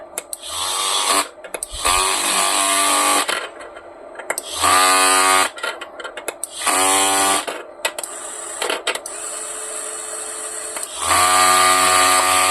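Two 12V electric motors driven wirelessly by a small RC transmitter, whining in loud bursts that start and stop repeatedly, their pitch rising as they spin up, close to the recorder.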